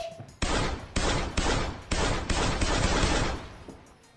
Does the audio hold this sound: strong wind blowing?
no